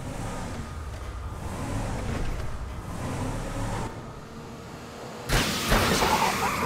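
A car is driven in Grand Theft Auto V during a heist, producing a low, steady engine and road rumble that swells louder near the end, with no talk.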